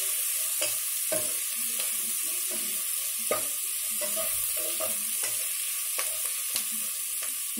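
Spring onions sizzle and fry in a pan for a wheat rava biryani, a steady close crackle with occasional scrapes and clicks of a spoon stirring, and no one talking.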